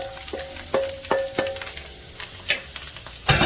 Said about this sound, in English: so I'm stirring this in